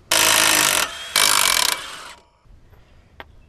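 A pneumatic impact wrench or power ratchet backs out the 18 mm caliper bracket bolts on a 2014-2018 Chevrolet Silverado in two loud, close bursts, followed by softer clinks and rattles of loosened hardware.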